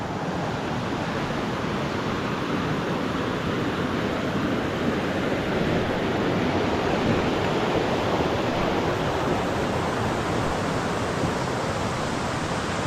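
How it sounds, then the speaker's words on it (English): A mountain stream on the trail to Malans Peak rushes continuously, a broad, even roar of water that stays close and loud throughout with no talking. "We'll say goodbye to the rushing water"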